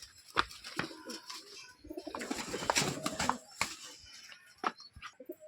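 Pigeons cooing inside their coop, a cluster of soft repeated calls with brief wing flutters and rustling, fairly close and loud against a quiet background with no talk.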